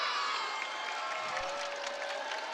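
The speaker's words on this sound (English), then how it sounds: "Giving them a round of applause here inside the MOA Arena" Crowd inside the MOA Arena after a PVL Invitational volleyball match, a broad wash of applause and cheering at a steady moderate level, slightly distant, with faint voices mixed in.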